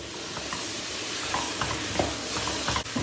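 Tomatoes and peppers fry with flour in a pan for a stuffed-cauliflower style dish, giving a steady close sizzle with occasional stirring scrapes and soft crackles throughout.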